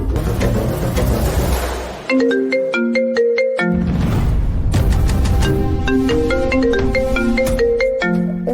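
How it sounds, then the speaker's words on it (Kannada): A mobile phone ringtone plays a bright repeating melodic chime pattern, loud and close, cycling through several phrases over a musical backdrop in a Kannada television drama, with no speech. "ನನ್ನ ಫೋನ್ ರಿಂಗ್ ಆಗ್ತಿದೆ, ಬಂದೆ ಒಂದು ನಿಮಿಷ."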